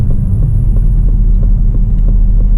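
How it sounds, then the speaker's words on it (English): Aston Martin DB11 Volante exhaust with its valves open, a loud, steady low rumble with a throbbing pulse, heard up close on the move during a tight U-turn in sport mode, with no talking. "I heard the exhaust valves open."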